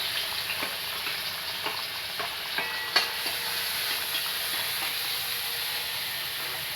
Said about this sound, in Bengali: তেল গরম হয়ে গেছে, এখানে তেলে দেব পেঁয়াজ,